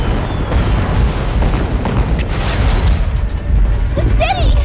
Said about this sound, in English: Oh, it's dropping all the bombs.